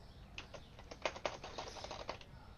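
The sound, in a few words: computer keyboard typing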